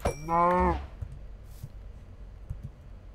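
A Minecraft cow lets out one loud, close, drawn-out moo at the start, followed by a few faint clicks over quiet background.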